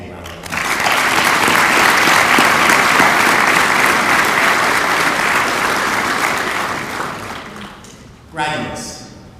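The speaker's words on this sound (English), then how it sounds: "So let's give them all a big round of applause." A graduation audience breaks into loud, sustained applause that fills most of the clip, gradually thinning toward the end before a voice speaks over the fading claps.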